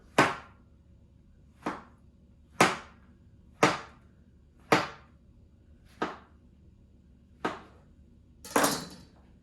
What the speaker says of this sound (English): so we're going to go ahead and slice my next one.